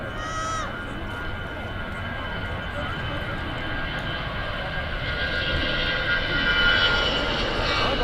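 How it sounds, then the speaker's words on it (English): An easyJet Airbus A320 departs Manchester Airport for Nice on a sustained, rising jet roar that swells toward the end, with people chatting under the engine noise. "So here's the 320 off to Nice. A very nice place indeed. Now is an EasyJet A320."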